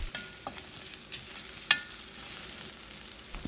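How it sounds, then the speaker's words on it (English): Red chilies, Kashmiri red chili and tamarind frying in a pan, a soft steady sizzle with light stirring scrapes and one sharp clink of a spoon. "Add little tamarind for tangy taste and then fry all these ingredients."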